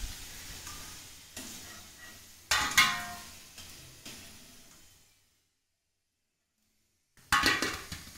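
Litti sizzling in hot oil as pieces are lifted out: bursts of crackling frying with sharp scraping stirs, a silent gap, then a fresh loud sizzle returning at the end.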